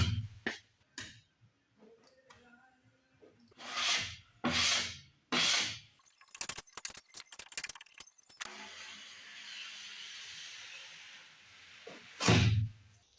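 Scraping and rubbing strokes of a wide trowel spreading fairing compound along the stem of a plywood skiff, coming in short close bursts with pauses, then a longer steady smear and one final heavy scrape.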